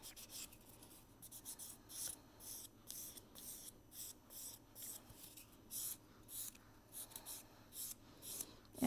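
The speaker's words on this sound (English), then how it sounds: "I just file, I'm going to buff very well." Rhythmic scratchy rasping strokes repeat close up and fairly quietly as dip powder fingernails are filed and buffed, a steady back-and-forth filing sound with brief pauses between bursts.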